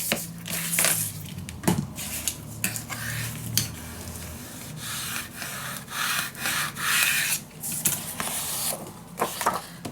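An A4 sheet of paper is folded and creased by hand to form a hinge for a scrapbook mini album pocket: close, dry rubbing and sliding strokes with scattered sharp crinkles and taps, no talking.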